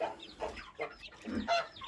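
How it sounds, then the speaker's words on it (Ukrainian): Young chicks on a rural homestead peep and chirp in short, closely spaced bursts, fairly quiet and near, with no talking over them. "Отакі от вже курчатка"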